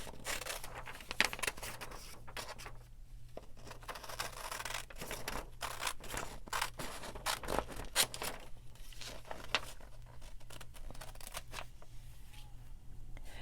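Scissors cut through paper images for a glue book, a quiet stream of close snips, rustles and paper scraping with irregular rhythm, over a faint steady background hum.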